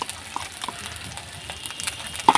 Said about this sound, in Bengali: তো এটাকে আমরা ভালো করে নাড়াচাড়া করে নেব, যতক্ষণ পর্যন্ত না রসুনের কাঁচা গন্ধটা কাটছে।